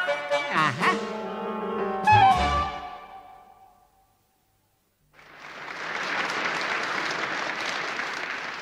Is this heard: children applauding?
yes